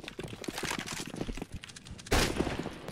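Rapid bursts of video game gunfire crackle close and dense throughout, with a sharper, louder volley near the end.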